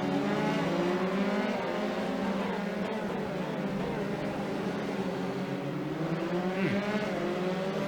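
Formula 3 race cars in a race at Circuit Gilles-Villeneuve, engines droning steadily at high pitch with a brief tire squeal near the end, moderately distant and without talk.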